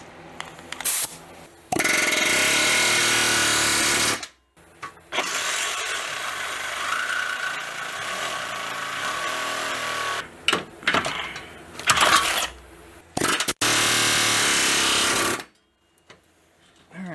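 A cutoff wheel grinds through the steel frame of a Jeep YJ, a loud sustained high-pitched whine in several long bursts separated by brief pauses, with no talk over it.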